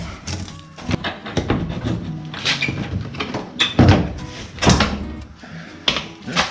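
A car door panel is pried away from the door, its retaining clips popping loose in a series of sharp snaps and thunks, close and fairly loud.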